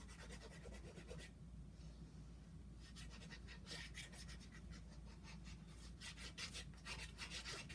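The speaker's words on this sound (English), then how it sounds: "let's grab a bone folder here. Right here. Give it a nice burnish" A bone folder rubs and burnishes a paper card base in soft, close scraping strokes, with a brief pause before a quicker run of rasping passes.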